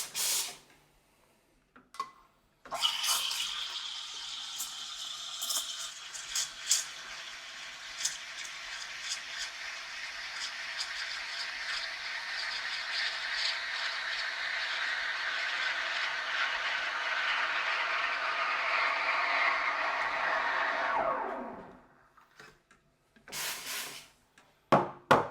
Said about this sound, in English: I'm just going to steam it as I regularly would.